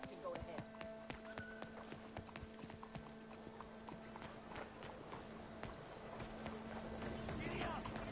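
A horse gallops in Red Dead Redemption 2, its hooves clip-clopping in a fast, steady rhythm at a faint, distant level. Game speech carries over the hoofbeats.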